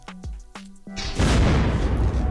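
A base being raided in Unturned: a couple of metallic clanks are followed by a loud, close explosion whose rumbling, crackling blast lingers to the end.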